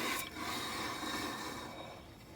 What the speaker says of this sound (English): that noise is the rusty rotors.